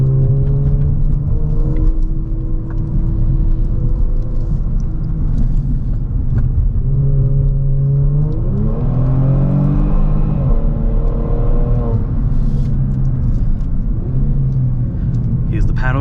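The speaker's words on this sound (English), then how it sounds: "an exotic sounding exhaust suits the car a little bit better." A 2022+ Kia Stinger GT2 with a Borla active valve exhaust runs under load, its engine droning steadily and rising in pitch as it revs, with a shift near the middle, heard from inside the car.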